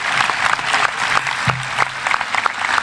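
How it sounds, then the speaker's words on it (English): A crowd applauds at a high school graduation ceremony in a large venue, a dense, continuous wash of clapping heard alone for the whole stretch. "Let's give that a round of applause."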